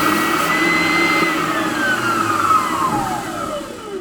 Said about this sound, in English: So what I do is I use this bobbin sander that goes up and down.